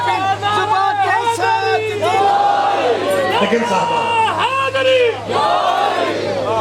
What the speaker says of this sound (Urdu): اچھا آج سارے نعرے فرنٹ سے لگ رہے ہیں